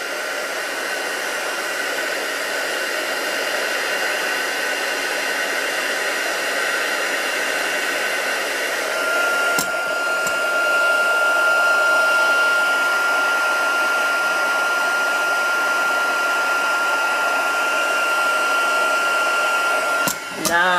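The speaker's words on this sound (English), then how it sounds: "Can't get enough of heat embossing." A heat embossing tool blows hot air in a continuous, even rush of broadband noise for about twenty seconds, close and steady, with a couple of brief clicks near the middle and end.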